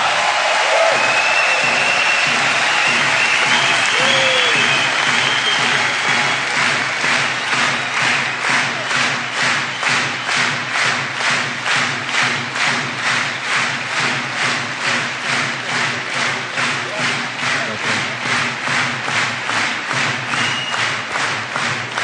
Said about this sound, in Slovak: zaslúži si ešte raz obrovský aplauz